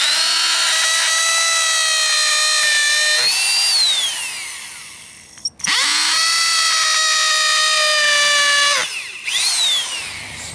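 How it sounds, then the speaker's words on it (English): A power drill whines loudly through pieces of wood in two long bursts, its pitch rising as the motor spins up and falling as each pass ends, with a brief pause between. "I'm going to drill through them."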